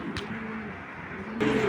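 Caged pigeons coo softly in a low, steady murmur, close by, with a brief bird sound near the start and a louder flutter or shuffle at the end.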